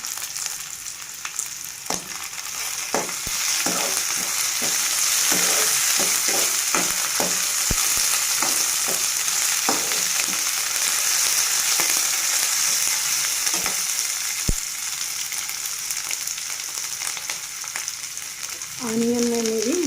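Onions and curry leaves fry in hot oil with a steady, loud sizzle throughout, broken by repeated scraping taps of a stirring spoon against the pan.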